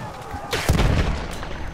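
Explosive shell impact on a tank in the Battlefield 1 video game, one loud booming blast with a sharp crack and a rumbling tail, heard up close in a brief burst.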